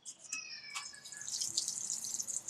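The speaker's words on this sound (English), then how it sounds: "add a little more water." Water poured onto a homemade compost heap layered with dirt, a soft trickling and splashing that runs steadily for a couple of seconds, fairly quiet and close.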